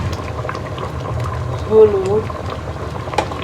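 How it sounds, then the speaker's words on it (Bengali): A pot of dal boils with a steady low bubbling, while someone speaks briefly over it. "ডালটা ফুটে গিয়েছে"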